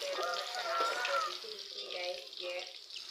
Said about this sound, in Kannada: ಬೆಳ್ಳುಳ್ಳಿ ಹಾಕ್ಕೊಂಡು ಅದು ಸ್ವಲ್ಪ ಕೆಂಪು ಆಗಬೇಕು ಫ್ರೈ ಆದ ನಂತರ